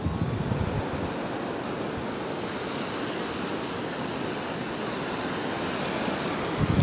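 Sea waves wash steadily onto the beach at Hua Hin, a continuous broad roar of surf with wind noise on the microphone, close and loud throughout with no talking.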